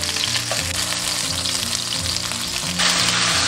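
Batter-coated meat chunks fry in hot oil in a wok over medium-low heat, giving a close, continuous sizzle with light pops that grows louder and brighter near the end.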